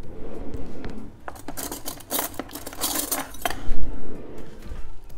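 A large spoon scrapes chocolate mug cake batter into a small dish, producing a close cluster of sharp metallic clinks and scrapes that rise and then fade out.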